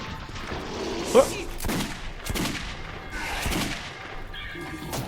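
Gunfire in Metro 2033 Redux, scattered bursts of shots spread through the clip over a dense game soundscape, with a voice speaking briefly.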